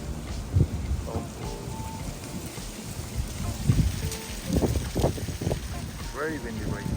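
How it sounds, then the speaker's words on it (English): Wind gusts on a night walk through Washington Square Park, buffeting and rushing unevenly with faint background voices. "very windy right now."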